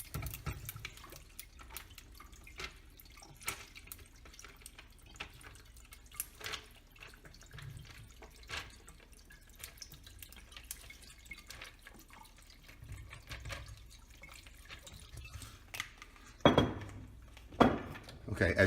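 Tequila pours and drips into a ridged pitcher at a low level, with faint clinks and a couple of louder knocks near the end.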